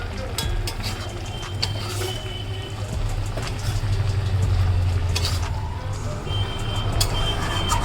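Pangas fish and spinach curry being stirred in a pan after salt is added, with scraping and soft bubbling over a constant low hum, moderately loud and close, no voices.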